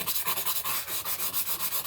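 A worn abrasive tool grinds at a rough green-and-gold rock, making a steady rasping scrape in quick, regular strokes, close and fairly loud, with no voices.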